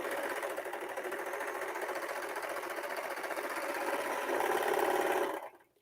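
A serger sewing machine runs steadily while it ruffles fabric, its fast even stitching hum carrying on for several seconds and swelling a little near the end before it stops abruptly.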